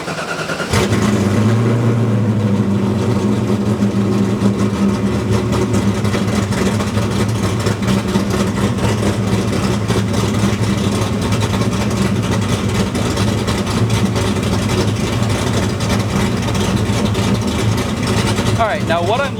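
A small block Ford V8 in a Foxbody idles steadily on a dyno, a loud continuous rumble held close throughout during tip-in tuning, with a voice talking over it.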